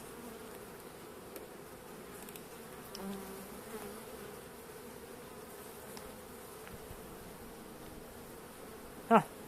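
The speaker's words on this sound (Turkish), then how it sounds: "Ama kendi yetiştirdiğimiz ana arılar bakın gayet iyi." Caucasian and Carniolan honeybees hum faintly and continuously around a hive, with a few nearer passes standing out. A short sharp knock sounds near the end.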